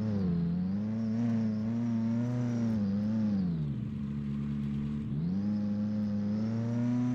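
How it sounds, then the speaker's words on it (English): A car engine in the Roblox Jailbreak video game drones loudly and continuously, its pitch rising, dipping around the fifth second, then climbing again as the vehicle speeds along, with no voices. "It's even worse than driving a car."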